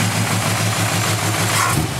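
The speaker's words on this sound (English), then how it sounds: "good old engine, runs good" A reliable older car engine with a loose fan belt idles steadily close by, a continuous low rumble with an even pulsing rhythm and no voices over it.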